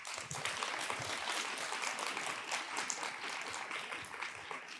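An audience at a university science symposium applauds the lightning talk speakers with a continuous wash of many hands clapping. The ovation sounds somewhat distant and is fairly quiet, but it holds steady the whole time.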